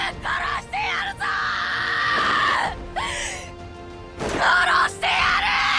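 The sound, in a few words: anguished anime boy screaming in terror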